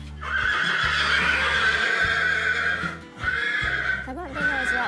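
Several horses whinny loudly and repeatedly close by, with hooves clip-clopping underneath; people talk over them at times.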